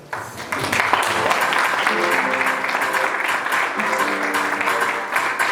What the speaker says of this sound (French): Gérard, sous vos acclamations.